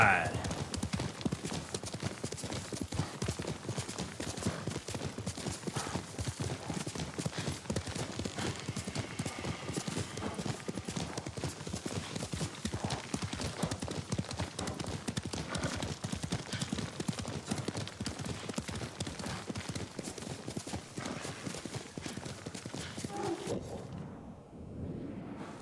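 Horse hooves clip-clop steadily at a gallop while riding through the open world of the video game Ghost of Tsushima, a continuous rhythmic pounding with someone talking over it and a brief neigh.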